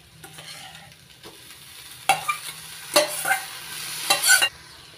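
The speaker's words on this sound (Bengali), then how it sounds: "এবার দিয়ে দিচ্ছি সেদ্ধ করে জল জড়িয়ে রাখা মোচা।" Boiled, drained banana flower is tipped into a hot frying pan, three bursts of loud sizzling and scraping rising over a quiet low hiss, close by and without talk.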